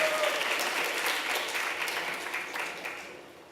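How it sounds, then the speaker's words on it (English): Applause from a church congregation at a Sunday service rings out loud and steady at first, then gradually thins and fades across a few seconds. "Please give Eriko a round of applause."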